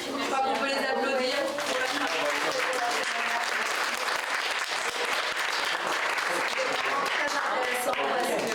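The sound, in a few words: audience applauding the speakers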